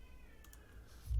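A pet cat meowing indoors, a single drawn-out mew near the microphone with a few faint clicks, followed by a brief thump.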